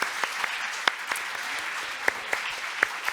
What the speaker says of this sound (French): Je crois qu'on peut vous applaudir pour votre participation sur scène aujourd'hui.